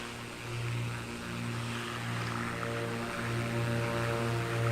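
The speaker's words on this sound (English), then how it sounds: "the sound of this aircraft is amazing too" Twin-propeller Black Square Baron engines drone steadily in a flight simulator, a loud, even, continuous hum with a throbbing propeller beat and no talking.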